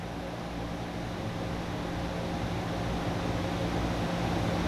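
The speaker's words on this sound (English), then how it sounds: "Pump is now back on." A Rinnai water heater pump runs with a steady low hum and faint even whirring, unchanging in level throughout, with no voices.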